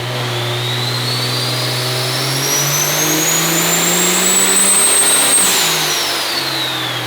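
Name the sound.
diesel truck engine revving during wide open throttle dyno pull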